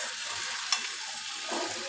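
Spices frying in a pan for a sweet vegetarian vegetable curry, a soft steady sizzle with a brief clink of stirring near the start.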